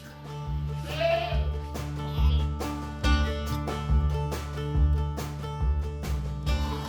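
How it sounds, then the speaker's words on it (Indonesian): Saanen dairy goats bleat repeatedly on a farm, several overlapping calls in a steady rhythm over a constant low hum, close and fairly loud. "Jenis kambing yang dipelihara adalah kambing sanen yang dikenal sebagai penghasil susu berkualitas"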